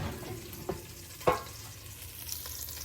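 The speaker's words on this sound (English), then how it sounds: "There's pork belly sizzling." Faint steady sizzling of pork belly frying in an air fryer, with a couple of soft clicks or knocks, quiet and close.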